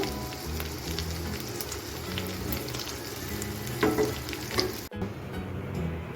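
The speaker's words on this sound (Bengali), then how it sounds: "এবার আমি সবগুলো ভেজে নেব" Paneer kofta balls for paneer malai kofta fry in hot oil with a steady, close, crackling sizzle that runs continuously, cutting out briefly near the end before resuming.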